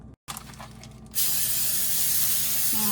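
Cooking spray hisses in one continuous burst onto a foil-lined baking pan, loud and close, after a brief lead-in of quieter handling noise and a short click.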